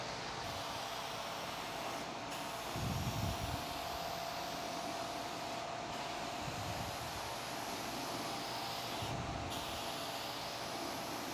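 Aerosol spray paint can spraying a car fender outdoors, giving a steady broadband hiss that runs throughout with brief breaks, under a faint continuous background hum.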